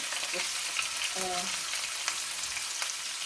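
Poke salad greens of pokeweed cook in a pan with a steady, even sizzling hiss throughout, fairly close and without pauses, with a brief faint scrape partway through.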